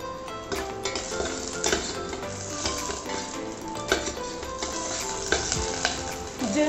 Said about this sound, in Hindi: इसमें 2 से 3 स्पून ऑयल डालेंगे, ग्रीन चिली हमने कट करके रखी है ये हम इसमें डाल देंगे